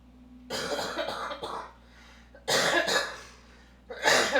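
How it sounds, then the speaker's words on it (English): Several harsh, nearby coughs come in bursts, with pauses between fits, over a low background hum. "Still got that cough"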